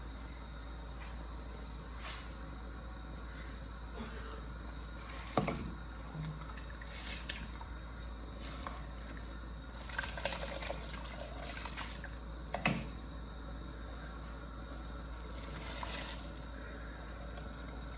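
Soaked rice is added by hand to boiling water for chicken biryani. Soft, irregular splashes, squishes and trickles come close up over a faint, steady background hum.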